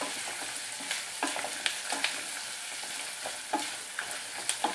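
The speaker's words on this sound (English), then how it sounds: "Now I'm going to throw in the peppers. Stir those up, get the oil on them." Peppers sizzle steadily in olive oil for meatball soup while a utensil stirs and scrapes them, giving scattered sharp clicks over a constant close frying hiss.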